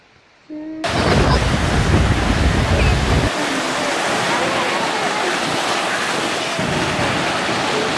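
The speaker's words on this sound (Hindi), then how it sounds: "काफी अच्छा बीच है।" Ocean waves washing onto a beach, a loud, steady roar of surf and wind rushing close to the microphone after a brief quiet start.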